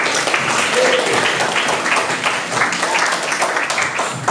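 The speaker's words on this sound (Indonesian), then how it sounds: "kita beri aplaus dulu untuk kawan kita" Classroom audience clapping for a classmate's good question during a lesson about the attributes of Allah, a dense, steady round of applause lasting a few seconds, close and fairly loud.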